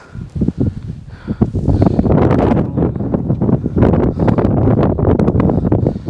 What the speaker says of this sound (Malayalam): നടക്കുമ്പോൾ ഈ കാറ്റ് വെച്ച് നമുക്ക് കുറേയൊക്കെ റിലീഫുണ്ട്